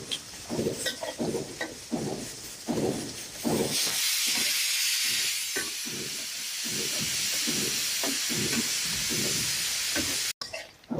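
A pressure cooker boiling mung dal lets out a loud, steady steam hiss that swells after a few seconds of lighter clatter and holds strongly to the end, with no talking.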